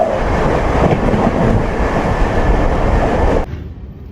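The Howrah–Ranchi Shatabdi Express passes close by with a loud, steady rail rumble and wheel clatter that cuts off sharply near the end, leaving a faint background hiss.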